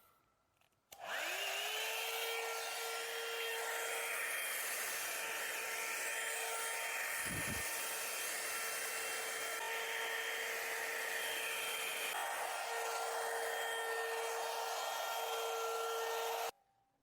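Lifelong hair dryer brush switched on and blowing hair, a loud, steady high-pitched motor whine with a constant airflow hiss that runs unbroken for about fifteen seconds, then stops abruptly, with no talking.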